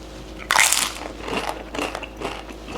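A sharp, loud crunch as a seasoned tortilla chip dipped in homemade salsa is bitten, followed by several fainter crunches of chewing up close, with no talking.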